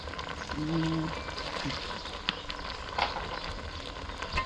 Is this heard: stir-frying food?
yes